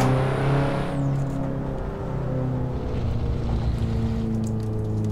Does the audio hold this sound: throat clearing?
no